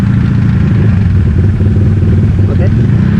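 A parked motorcycle idles while warming up, a steady close engine putter that runs throughout with a loose clattery edge, and a voice speaks faintly over it.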